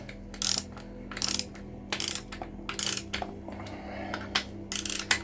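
Repeated bursts of ratcheting from a torque wrench tightening the crank bolts on a Reliant Supervan short-block engine, sharp clicking runs in an uneven rhythm, close and clear with no talk.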